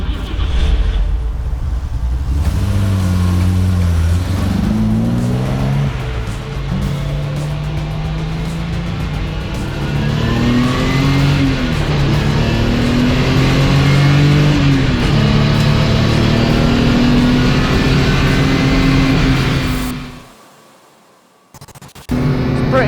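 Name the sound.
1982 BMW 528 engine driving on wet track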